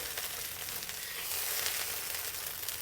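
Garlic shrimp fried rice fries in a wok with a soft, steady sizzle and faint crackling, heard close and fairly quiet with no talk.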